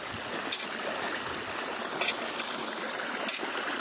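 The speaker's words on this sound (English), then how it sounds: "here's my new waterfall I built" Water runs steadily over a homemade rock waterfall into a dug pool outdoors, a continuous close rushing trickle with a few brief splashes.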